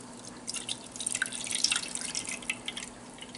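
Dissolved salt water is poured into a brine shrimp hatchery, giving soft, irregular dripping and trickling splashes that stay faint and close, without any speech.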